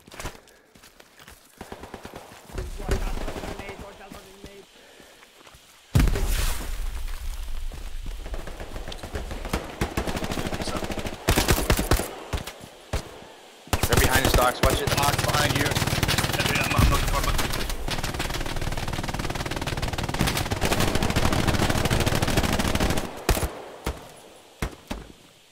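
Bursts of machine gun fire in a World War-era shooter game on Hill 400, loud sustained rattling volleys with brief pauses and a player talking.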